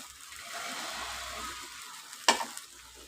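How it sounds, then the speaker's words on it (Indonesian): Spices sautéing in a pan for spicy chicken feet (ceker mercon) sizzle softly and steadily, with a sharp metallic clink of a utensil near the end, no talk. "Kita tumis sampai wangi ya."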